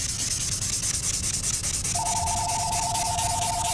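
Careful hand sanding of clear coat along lettering on a Yamaha FZR motorcycle restoration, a steady close scratchy rubbing; partway through a faint sustained electronic tone enters behind it.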